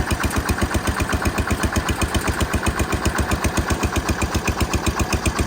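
A Massey Ferguson 16 tractor engine idles steadily, its low, even chugging pulses repeating rapidly and unchanging throughout, close and loud with no talking.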